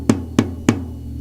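A 12-inch tom drum struck three times at an even pace, each hit punchy with a resonant, slightly lower pitched ring that fades between strokes, close and alone.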